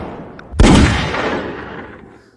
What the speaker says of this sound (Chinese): 有狙击手，大家快趴下！